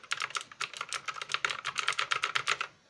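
A mechanical computer keyboard being typed on, a rapid run of crisp, fairly faint clicking keystrokes in an irregular rhythm, heard alone.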